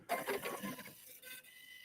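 A Juki Stellaire sewing machine stitching a men's shirt during an alteration, its rapid mechanical whir running steadily for about a second before easing off into quieter motor hum.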